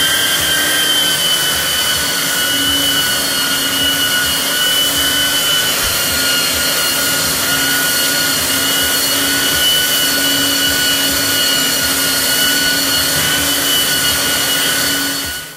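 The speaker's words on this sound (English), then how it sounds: "we can now actually start to use a belt sander to get the surface nice and flat" A belt sander runs steadily and loudly on a solid surface countertop material, a constant whirring drone with a high whine, cutting off at the end.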